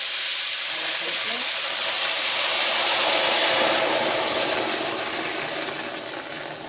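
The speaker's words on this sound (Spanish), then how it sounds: "Le vamos a echar nuestra salsa aquí al aceite." Salsa hits hot oil for bean-sprout fritters, a loud, bright, hissing sizzle bursting at once and then slowly tapering off as the sauce settles in the pan.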